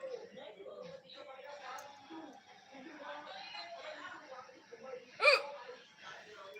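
A single sharp hiccup from a person who has just eaten spicy chili, loud and close, breaking through faint background murmuring and soft vocal sounds.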